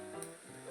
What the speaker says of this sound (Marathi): आता हे बघा, दोन्ही साईडनी चांगलं मस्त तळून झालेलं आहे.